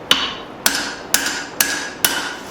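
Hammer striking hot steel while forging a tomahawk: five sharp, ringing metallic blows at an even pace of roughly two per second, close and loud.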